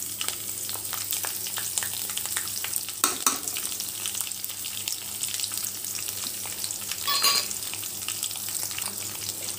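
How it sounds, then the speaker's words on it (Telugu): Green chillies frying in oil in a pan, with a steady crackling sizzle throughout and occasional stirring scrapes and clatters, heard up close with no talking. "ఇప్పుడు ఒకసారి ఇలా కలిపెట్టేసాక గ్రీన్ చిల్లీ కూడా ఆయిల్లో వేగుతుంది."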